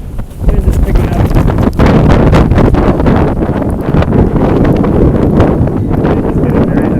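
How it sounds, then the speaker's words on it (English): Strong Typhoon Hato winds roar through Hong Kong as loud, continuous buffeting gusts batter the microphone, rumbling heavily for the whole stretch with a voice faintly present underneath. "Wind is picking up."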